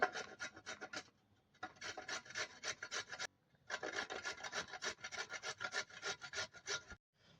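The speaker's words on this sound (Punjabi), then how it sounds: "ਗਾਜਰ ਨੂੰ ਆਪਾਂ ਕਰ ਲੈਂਦੇ ਹਾਂ ਕੱਦੂਕਸ਼" Carrot being grated by hand for a vegetable sandwich, rapid rhythmic rasping strokes in three bursts separated by short pauses, close and clear with no talking.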